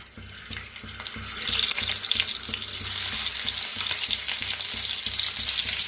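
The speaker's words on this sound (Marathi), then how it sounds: "तेल वतूया, तेच कढाई ठेवलेले आहे। तर आता त्याच्यात अंडी सोडूया।" Eggs dropped into hot oil in a kadhai, with a rising hiss that settles into a loud, steady sizzle close by, and a few soft clinks early on.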